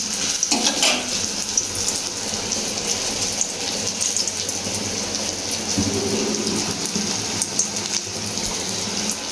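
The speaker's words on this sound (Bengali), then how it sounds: "এদিকে বেগুনটা ভাজা হচ্ছে" Eggplant fries in a pan in a home kitchen, giving a loud, continuous close sizzle and crackle with a watery, tap-like rush underneath and no voices.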